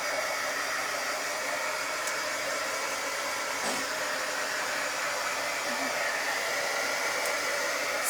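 A hair dryer blows continuously on wet paint with a steady broadband whoosh, close and unchanging throughout.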